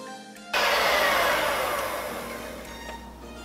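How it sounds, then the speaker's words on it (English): A stand mixer whips egg whites with vanilla toward stiff peaks, switching on abruptly after a quiet moment into a loud, steady broadband whir that eases slightly as it runs, with no talking. "we're gonna beat them until it gets really, really stiff. This is where a stand mixer comes in handy"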